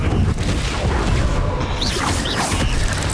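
Spell blasts from Confringo, a fire-blasting charm cast in the Hogwarts Legacy video game, come as dense booming, crackling bursts layered over continuous loud battle noise, with a couple of brief whooshing sweeps near the end.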